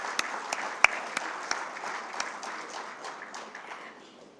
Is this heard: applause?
yes